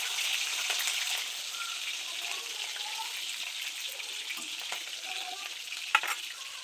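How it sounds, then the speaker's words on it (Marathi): Cumin seeds tempering in hot oil for pav bhaji give a steady, close sizzle and crackle that hold for several seconds, with one sharper pop near the end. "आता तेल चांगलं गरम झालं की आधी ह्याच्यामध्ये आपण जिरं टाकणार आहे. त्याला आपण चांगली फोडणी देऊ."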